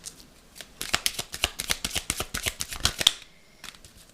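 Tarot cards are shuffled and drawn in a quick series of crisp riffling snaps and slaps, close and fairly quiet, with a short pause near the end.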